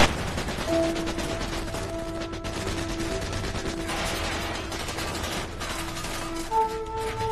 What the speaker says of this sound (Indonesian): Setelah selesai pun sang komandan langsung menyuruh anak buahnya menembaki Atami lagi dengan kekuatan penuh tanpa henti.